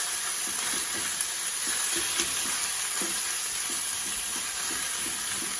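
Angus beef sizzles steadily in a hot pan with a dense, continuous frying hiss. Faint intermittent clicks and taps sit beneath it, and no one speaks.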